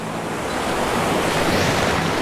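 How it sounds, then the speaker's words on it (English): Ocean surf waves breaking on a beach at Padre Island, a steady broad wash of rushing water with some wind noise on the microphone, close and continuous throughout with no talking. "past those waves that are breaking so I don't get slammed"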